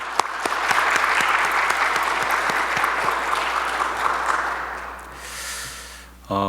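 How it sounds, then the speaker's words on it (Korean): A church congregation at a Sunday worship service bursts into sustained applause, dense steady clapping that swells and then tapers off, with a brief noise at the very end. "영광의 박수 한번 올려드릴까요?"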